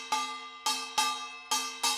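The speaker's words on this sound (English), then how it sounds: "Gwengari sounds like this." A Korean kkwaenggwari, a small gong, is struck five times in an uneven rhythm. Each bright metallic clang rings out clearly and fades quickly before the next strike.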